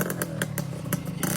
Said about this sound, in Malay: Naik motor satu Malaysia.